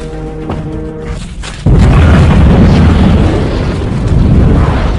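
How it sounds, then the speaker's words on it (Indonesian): A sudden, heavy explosion of an alien spaceship, set off with explosives, bursts in after a quieter stretch, followed by a sustained loud rumble and roar that fills the rest of the clip. "sesaat setelah ledakan terjadi"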